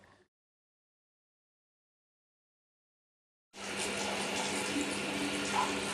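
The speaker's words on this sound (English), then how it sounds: "Scott is busily cleaning his teeth" Running water from a tap at a guest house sink while someone brushes his teeth, starting abruptly after a few seconds of silence and then flowing steadily and fairly loud to the end.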